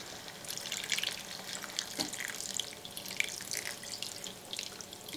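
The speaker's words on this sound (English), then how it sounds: "And then I'm gonna add 1 can of beef broth" Beef broth pours from a can into a soup pot for American goulash, giving a continuous gurgling, splashing stream of liquid with small spatters, moderately close and steady throughout.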